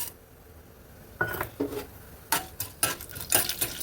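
Urad dal, chana dal, mustard seeds and dried red chillies dropped into hot oil for bombai chutney, giving scattered crackles, pops and metallic clinks of a pan and spoon after a quiet start.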